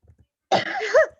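A single short, harsh cough with a throaty rasp, close up and loud, after a moment of near silence.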